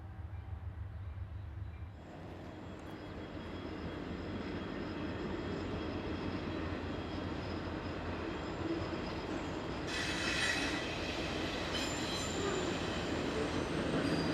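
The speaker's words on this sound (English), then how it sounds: "Light engines heading west." CSX light locomotives run westbound on a West Virginia main line, a steady loud rumble of engines and rolling wheels that swells after the first couple of seconds and holds, with some faint squeal near the end.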